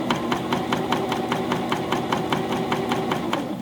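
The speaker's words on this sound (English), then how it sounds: "you can hear it's sewing very smoothly" A Janome CPX1000 coverstitch machine with a stretch needle sews fabric steadily, its needle tapping in a fast, even rhythm over a constant mechanical hum, close up.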